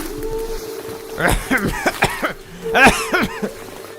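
A voice performs a coughing sound effect for a Bengali village ghost story, two clusters of rough, close coughs and throat-clearing separated by a short pause.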